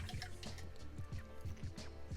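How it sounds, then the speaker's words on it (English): A paintbrush swishes and taps in a water pot during miniature painting, giving soft repeated drips and sloshes in a quick rhythm, close and quiet, with no talking. "Then we're going to wash the brush,"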